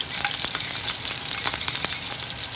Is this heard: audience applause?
no